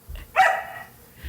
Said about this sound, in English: So sorry about the barking in the background.